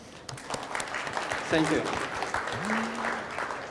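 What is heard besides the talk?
applause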